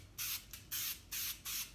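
Aerosol spray adhesive hissing from a can in four short, loud bursts, each about a third of a second long, separated by brief pauses in a quiet room.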